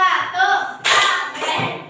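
A group of people stand in a classroom and clap their hands together in time for an ice-breaking exercise. A voice leads at the start, then sharp, evenly spaced claps ring out close by.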